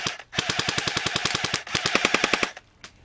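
A Cybergun Thompson airsoft gun fires a rapid full-auto burst of about twenty sharp, evenly spaced shots, close and loud, with a brief pause partway through before the rest of the magazine empties.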